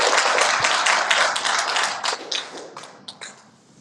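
Audience at a community council orientation lecture clapping in applause, a dense burst of many hands that thins out into scattered individual claps and fades by the end.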